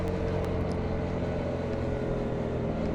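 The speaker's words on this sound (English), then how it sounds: "the bike sounds a bit too high pitched and raspy" A KTM Duke 125 motorcycle with an aftermarket exhaust hums steadily at moderate, fairly faint volume, with a constant droning engine tone and no speech.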